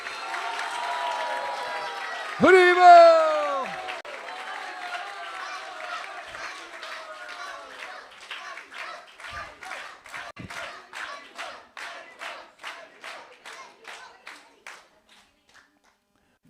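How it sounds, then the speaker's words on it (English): An audience claps for the children at a Krishna Katha gathering led by a swami, opening with a loud shout and cheering before settling into scattered, rhythmic clapping that slows and fades out. "Now give them a big round of applause."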